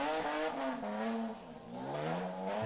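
A BMW Compact rally car on a Belgian rally stage revs hard through the gears, the engine note rising and falling in several pulls with a brief dip midway, heard moderately close without talking.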